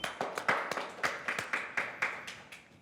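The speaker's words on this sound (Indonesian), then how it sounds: "Tepuk tangan teman-teman" Quick, sharp hand claps in a steady rhythm, about a dozen in a row, close and moderately loud.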